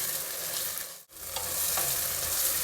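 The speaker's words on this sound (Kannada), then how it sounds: "ಅವರೆಕಾಳು ಹಾಕಿದ್ಮೇಲೆ ಸ್ವಲ್ಪ ಹೊತ್ತು ಎಣ್ಣೆಯಲ್ಲಿ ಹುರಿಬೇಕು" Field beans frying in hot oil with tempering, a steady close sizzle with light stirring scrapes, briefly cut to silence midway before the crackle resumes.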